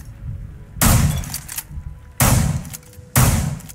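Three sharp bursts of gunfire in Rainbow Six Siege, fired into a bathroom wall on the second floor of the farmhouse on the Hereford Base map, each a loud crack with a splintering, breaking texture, spaced over a few seconds with quiet between them.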